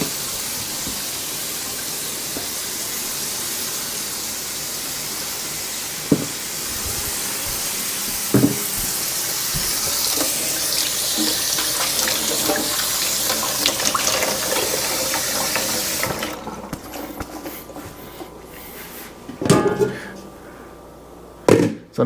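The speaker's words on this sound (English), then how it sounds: "Me get some water in the pot, to put on the fire, to boil up" Tap water running steadily into a cooking pot, a loud, close, continuous gush that stops partway through, followed by a few clunks of the pot being handled, with speech faintly present.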